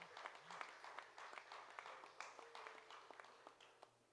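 Faint, distant applause patters steadily from a congregation during a Moravian church worship service, with a low hum underneath.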